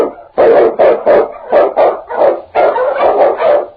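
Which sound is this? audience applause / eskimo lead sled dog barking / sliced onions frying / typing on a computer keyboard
eskimo lead sled dog barking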